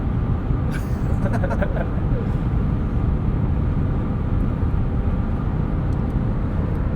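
A 2009 Porsche 911 Carrera 4S engine heard from inside the cabin, a loud, deep, continuous drone that holds fairly steady with a few faint higher ticks early on.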